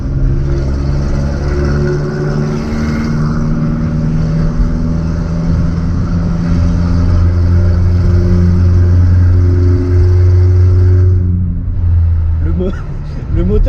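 A VW Golf SDI diesel with a very loud exhaust drones and revs hard for several seconds, a deep sustained roar rising and holding before dropping off near the end.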